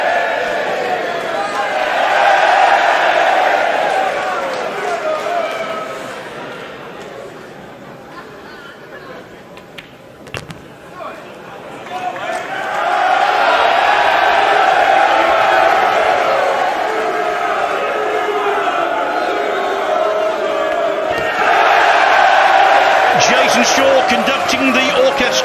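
Crowd at the Mosconi Cup 2021 pool doubles final reacting as the shot clock runs down: a loud, dense wash of cheering and chatter that swells, dips for several seconds, then rises again.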